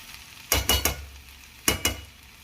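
Ivy gourd (dondakaya) frying in a pan while being stirred, with a few short scraping bursts of the spoon in two quick clusters over a quiet background sizzle.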